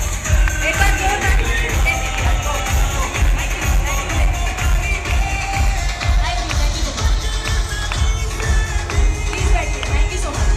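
An indoor audience at a direct-selling seminar in Haridwar applauds to welcome the host, a steady moderately loud wash of clapping and crowd noise that continues without pause.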